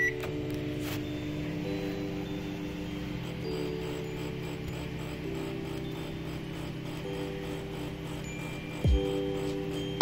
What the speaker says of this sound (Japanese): 次はターンテーブル式の電子レンジ。